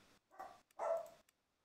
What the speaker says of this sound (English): Excuse my doggy there. For some reason, she likes barking at ghosts.